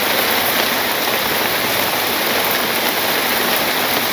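Steady heavy rainfall over a village in Bangladesh, a loud, close, uniform roar of water hitting the ground and roofs, continuous for several seconds without any talking.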